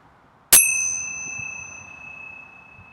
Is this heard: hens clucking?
no